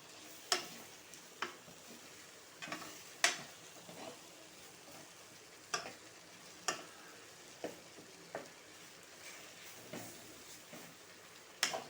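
Sharp spoon clicks and scrapes against a pan recur irregularly over a quiet, steady sizzle of masala frying in oil for chicken curry.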